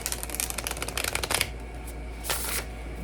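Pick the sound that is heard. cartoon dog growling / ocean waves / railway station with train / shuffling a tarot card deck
shuffling a tarot card deck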